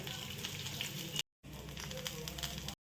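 Onion, garlic and coconut sizzle steadily in hot oil, a close, even crackling fry that cuts off briefly before resuming.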